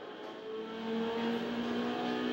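Racing car engine in Need for Speed Underground on PlayStation 2, a steady high whine that swells louder midway as it revs, heard alone without talk.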